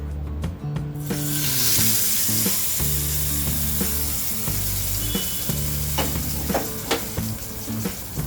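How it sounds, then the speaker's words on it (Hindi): Hot tempering, a tadka, poured into mint coconut chutney gives a loud burst of sizzling that settles into a steady crackling hiss, with faint spoon clinks and stirring taps, no voices. "तड़के को हम चटनी में डालेंगे।"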